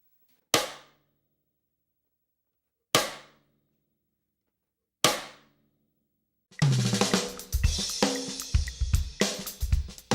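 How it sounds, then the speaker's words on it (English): A drumstick turned around so its butt strikes the rim of a snare drum, three sharp isolated clicks with quick decay spaced about two seconds apart, followed by a busier stretch of rapid, denser hits and ringing. "The last stroke is the cross stick stroke."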